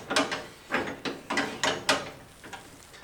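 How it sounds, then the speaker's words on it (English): Ratcheting wrench spun by hand to tighten a bumper bolt on a 2002-2004 Toyota Tacoma during an ARB bumper install, heard as several close, quick bursts of clicking in an uneven rhythm. "You can just take the wrench, stick it in there, and just spin this baby around until you get it tight."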